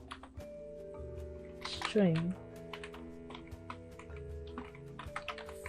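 Keys on a computer keyboard clatter in quick, uneven bursts of soft clicks, close by and continuing under a voice as he talks throughout.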